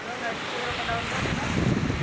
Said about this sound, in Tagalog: Ang lakas ng hangin at talon.